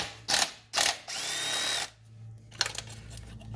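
Ratchet with a 10 mm socket on an extension loosening a bolt while a Polaris Slingshot starter is replaced: two short bursts of quick clicking, a longer steady buzzing stretch, then quieter scattered mechanical clicks.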